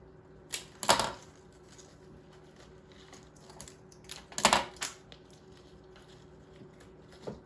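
A flower stem is trimmed shorter for a spring floral arrangement, giving two crisp, close snips several seconds apart against a quiet room.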